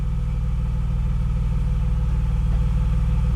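A Toyota Tacoma engine runs as it is put into drive, a loud, steady, low rumble with an even pulsing throb and no talk.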